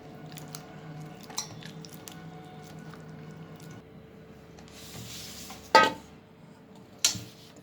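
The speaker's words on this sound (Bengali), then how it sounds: "এখন পুরো রসটা আমি হাত দিয়ে কষলিয়ে নিচ্ছি।" Mango pulp juice being squeezed by hand, a quiet, wet, squishing sound with soft sloshes, plus a couple of sharper splashy knocks near the end, close and alone.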